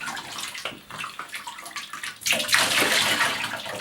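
Tap water runs steadily over hand-dyed yarn during a rinse, a close splashing gush that swells louder about halfway through and carries on alone.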